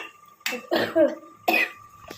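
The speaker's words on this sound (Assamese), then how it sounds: "মোৰ অলপ কাহ হৈ আছে" Two or three sharp, close coughs in quick succession, loud against a quiet background.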